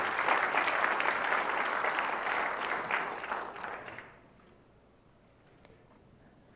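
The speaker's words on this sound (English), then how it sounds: "Yeah, you can clap for that." A developer conference audience claps steadily for about four seconds, then the applause thins out and fades to a few scattered claps.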